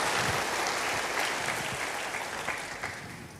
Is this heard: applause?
yes